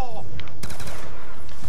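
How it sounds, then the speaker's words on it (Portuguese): Rapid gunfire in Call of Duty Black Ops 2 Zombies on the Tranzit map, a short burst of loud shots that quickly trails off into game noise. "Dá uns tiros, agora não vai faltar mais bala até o 30."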